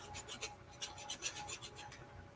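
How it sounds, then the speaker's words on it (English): A hand file rasps across metal in quick, steady back-and-forth strokes, each stroke a short gritty scrape, close and fairly quiet with no talk. "That sanding sound on metal would make my skin crawl."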